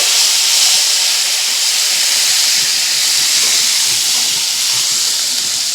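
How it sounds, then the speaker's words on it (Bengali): Green peas and onion stalks frying in a pan, heard as a loud, continuous, hissing sizzle that holds steady throughout, close by and with no voices. "এবার আমি এখানে দিয়ে দিচ্ছি মটরশুঁটি। মটরশুঁটিগুলো এর সঙ্গে একটু ভেজে নেব।"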